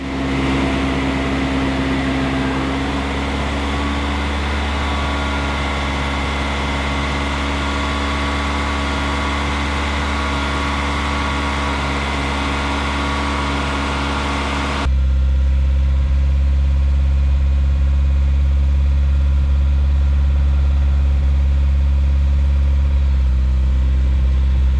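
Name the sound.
Mini Cooper S engine running during Seafoam intake carbon cleaning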